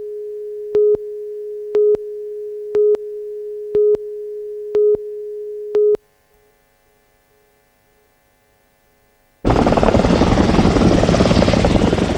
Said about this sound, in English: The distinctive beat of heavy helicopters drowned out passing traffic